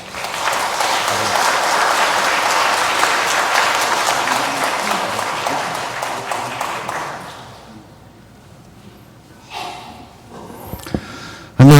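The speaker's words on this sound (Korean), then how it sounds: "우리 힘찬 박수로 앞으로 모시겠습니다." A congregation at a Catholic Mass for the Feast of the Exaltation of the Holy Cross gives a priest a long burst of applause. It is dense and steady, then fades out, leaving a few faint scattered sounds.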